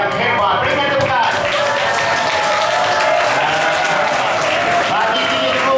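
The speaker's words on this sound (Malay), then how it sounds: "Berikan tepukan." An audience at a closing ceremony for an intrapreneurship training program applauds steadily for several seconds, a dense, even wash of clapping with voices mixed in beneath it.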